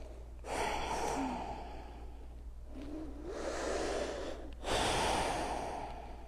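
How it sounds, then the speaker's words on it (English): Deep, slow breaths during a yoga flow, with three long audible inhale-exhale cycles close to the mic, each a soft airy rush with a short pause between. "A few more of these wholesome breaths."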